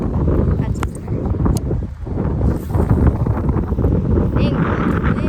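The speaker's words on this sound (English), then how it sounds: "Big wind." Strong wind while fishing buffets the microphone in loud, rough gusts, rumbling continuously with a faint voice under it.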